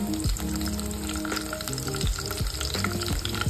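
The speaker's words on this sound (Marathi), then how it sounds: "आपल्या कढईमध्ये आपण 3 चमचे तेल घेतलेले आहे। त्याच्यात आपण ॲड करणार आहे हा कढीपत्ता" Curry leaves dropped into three spoons of hot oil in a kadhai, giving a loud, crackling sizzle that runs continuously through the short stretch, with a faint music bed underneath and no talking.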